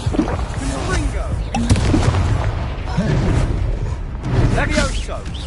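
Explosive Confringo spell blasts in the Hogwarts Legacy video game: repeated loud booming bursts over continuous battle noise, with voices mixed in.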